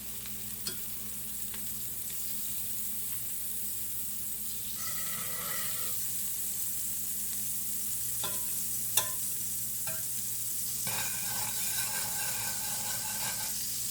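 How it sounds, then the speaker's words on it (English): Vegetable oil and a pat of butter sizzle steadily in a frying pan for fish, a continuous crackling hiss with occasional clinks and light stirring noises, no voices. "I've got some vegetable oil, and I'm going to add a pat of butter."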